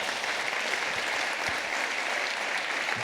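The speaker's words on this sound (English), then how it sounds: "They deserve a round of applause wherever they are." A conference audience claps steadily, a dense and even wash of applause throughout with no voices standing out.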